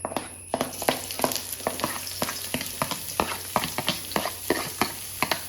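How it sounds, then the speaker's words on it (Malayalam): Chopped onion sizzles steadily in hot coconut oil in a wok, with a regular series of sharp stirring scrapes and clicks of the spoon against the pan, close and fairly loud, and no voices. "ചീനച്ചട്ടിയിൽ കുറച്ച് വെളിച്ചെണ്ണ ഒഴിച്ചൊന്ന് ചൂടായി കഴിഞ്ഞാൽ കട്ട് ചെയ്ത ഒനിയൻ ഇടുന്നു"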